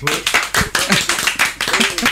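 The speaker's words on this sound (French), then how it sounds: "On peut applaudir Julien." A small group claps for a colleague named Julien, a burst of scattered handclaps close by, with voices talking over it throughout.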